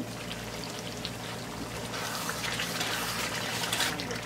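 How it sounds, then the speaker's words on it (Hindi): A quarter cup of water is poured into a pot of chicken tikka biryani, a continuous close gushing pour that builds slightly toward the end. "अब इसके अंदर पानी शामिल कर दें 1/4 कप"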